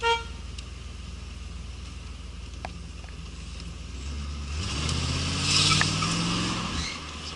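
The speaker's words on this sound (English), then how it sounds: "when I honked, she did move back" A car horn sounds near the end over steady engine rumble and road noise inside a vehicle at a blocked intersection, with tires rolling and a brief squeal.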